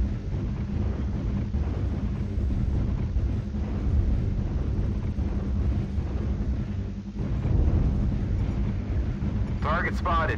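Video game artillery strike explosions roll as a continuous heavy boom and rumble, swelling in places, with a sharper burst near the end under a synthetic voice announcing in-game alerts.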